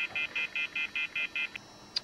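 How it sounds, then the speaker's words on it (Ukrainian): An old home telephone receiver gives a repeated busy-style beep with no one on the line: eight even tones in a steady rhythm, followed by a couple of fainter blips, clear and alone. "То телефон видає такий пі-пі-пі-пі-пі-пі-пі звук."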